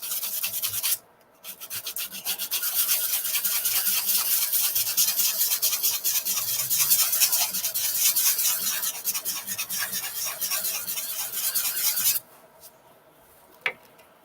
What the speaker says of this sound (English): I'm just going to kind of focus on the glue spots rather than sanding all the wood that I don't need to.